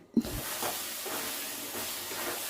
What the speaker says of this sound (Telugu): నిదానంగా తిప్పుకుంటూ ఫ్రై చేసుకోవాలి